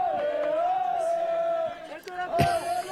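A crowd along the UTMB Mont-Blanc trail race route roars and whoops for a passing runner, a loud sustained chant-like cheer with a sudden burst of noise near the end.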